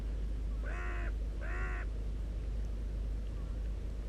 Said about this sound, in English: The old crow's making a bit of noise over there.